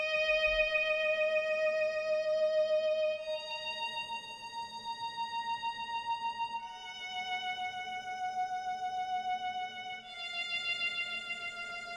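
Sustained viola notes from a sampled string library play with compressed reverb, four long held tones shifting pitch every few seconds, smooth and alone, in a Japanese lo-fi track.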